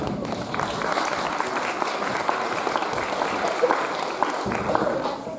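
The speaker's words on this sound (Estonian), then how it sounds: "Suur aplaus meie esinejatele." Audience members at a school Christmas party applaud performers with steady, dense clapping that fills the room evenly for several seconds, with scattered individual claps standing out over the continuous wash.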